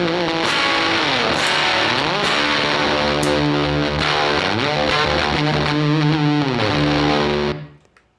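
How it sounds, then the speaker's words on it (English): Electric guitar with a thick fuzz tone playing sustained, buzzing chords and notes, loud and close, until it cuts off abruptly near the end. "So here's a little bit of fuzz."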